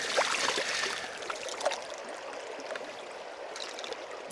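Water sloshes and swirls in a gold pan dipped in a deep spot of a Utah stream, with a steady flowing rush of current and occasional splashes and trickles, close and moderately loud.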